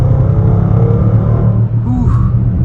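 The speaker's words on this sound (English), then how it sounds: "Really throaty exhaust note too." A 2022 Range Rover Sport Autobiography in dynamic mode accelerates on the highway with a deep, throaty exhaust rumble heard steadily from inside the cabin, loud and continuous throughout.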